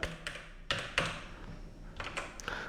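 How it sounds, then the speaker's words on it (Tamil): Keys clatter on a computer keyboard as a short phrase is typed, a few distinct bursts of clicks spaced across roughly three seconds, close and moderately quiet with no talking. "எக்ஸாம்பிள் டெக்ஸ்ட் அப்படின்னு டைப் பண்ணுறேன்"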